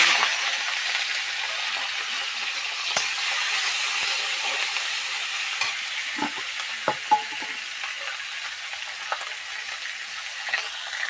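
Prawns frying in mustard oil in a wok: a steady, close hiss and sizzle, broken by occasional clinks and stirring scrapes, with no voices.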